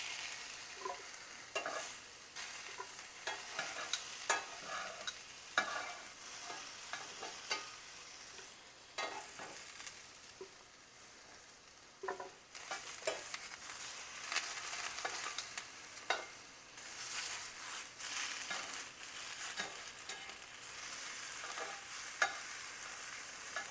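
Continuous crackling sizzle as vegetables roast in a hot dry cast-iron skillet, with repeated scraping and stirring noises as they are moved around, close and steady.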